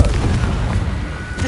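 In the Hogwarts Legacy video game, a Confringo blasting spell bursts with a loud, rumbling explosion that fills the brief moment, booming low and close.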